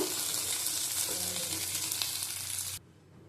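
Taro pieces frying in oil in a pan sizzle loudly and steadily up close, with light stirring, before the sound cuts off sharply near the end, leaving near silence.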